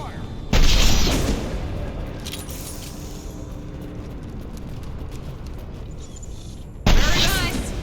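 Gunfire in the video game Mass Effect 2 comes as a loud burst early on, then a lower rumbling stretch, and a second loud burst near the end, with voices talking.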